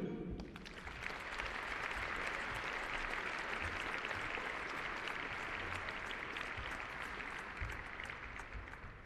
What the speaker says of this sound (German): ein großer Applaus an die Equipe von unserem Equipenchef und den Reitern